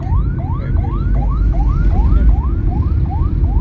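A loud, close siren yelps in rapid rising sweeps, repeating about three times a second over a low rumble of traffic.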